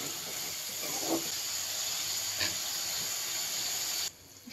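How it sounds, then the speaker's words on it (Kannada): Tomatoes with salt frying in a pan, a soft steady hiss of cooking with a couple of faint stirring touches, dropping away abruptly near the end. "ಇದನ್ನು ಚೆನ್ನಾಗಿ ಫ್ರೈ ಮಾಡಿ."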